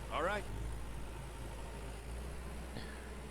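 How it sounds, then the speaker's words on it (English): A tractor engine loop from the Lumberjack's Dynasty video game hums as a steady low drone throughout, with a brief voice near the start and a short knock near the end. "Tractor sounds are pretty poor. It's just a looping sound"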